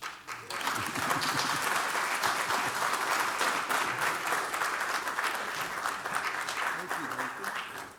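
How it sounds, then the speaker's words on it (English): Sustained applause from an audience at an archival opening celebration, steady dense clapping filling the room for several seconds, with faint voices mixed underneath. "it's all right for y'all to clap."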